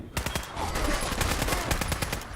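A minigun spinning up and firing in Fallout 4, a dense, loud, close stream of rapid shots rattling continuously without pause, heard on its own with no voices.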